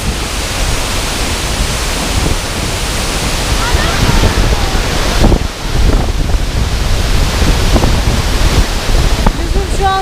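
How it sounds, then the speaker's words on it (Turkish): The Kapuzbaşı waterfalls in Kayseri, Turkey, roaring close by, a dense loud rushing wash of water with wind buffeting the microphone. "O ihtişamlı şelalenin sadece birinin yanındayız."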